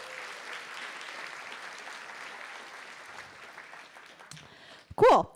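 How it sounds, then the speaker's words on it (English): A room of people at the MIT Mystery Hunt 2023 wrap-up claps steadily, fading out before a sharp noise near the end. "let's give them a round of applause for them as well"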